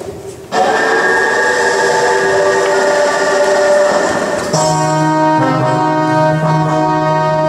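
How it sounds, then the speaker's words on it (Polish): A 1971 passenger train pulling in at a station platform, a loud sustained horn-like tonal blast that shifts pitch partway through over continuous rumbling rail noise, close and steady. "Pociąg osobowy z roku 1971 wjeżdża na tor przy peronie pierwszym."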